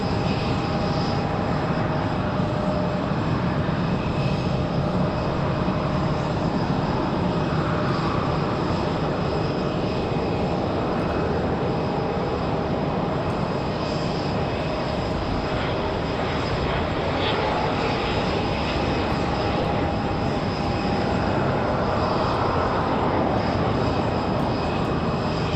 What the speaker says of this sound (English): Next arrival, going to be that Republic Airways from Pittsburgh,